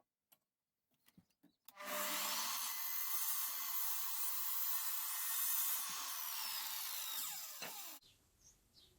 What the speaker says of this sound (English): Now I want to cut some bracing pieces to go across the back.